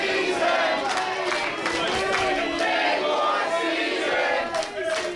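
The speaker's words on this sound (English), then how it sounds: "This crowd firmly behind Ace Romero, a hometown hero," A wrestling crowd at a Limitless Wrestling show roars and chants for a hometown hero, a dense, sustained wall of cheering voices that holds at an even level throughout.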